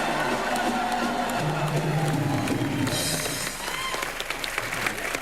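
A studio comedy-show audience applauds loudly and steadily with some cheering, a dense sustained wash of clapping that eases a little near the end, with voices mixed in.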